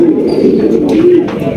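Pigeon cooing from a pair of Andalusian beauty pigeons kept for sale, a low steady coo close by with soft rustling and no talk over it.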